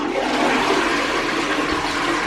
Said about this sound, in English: you're supposed to flush the toilet